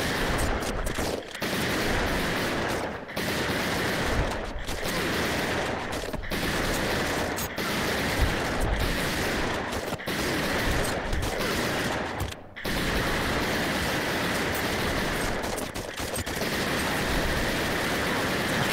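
Continuous heavy gunfire in the VR wave shooter Operation Serpens on Oculus Quest 2, a loud, near-constant roar of rapid shots broken by a few brief pauses.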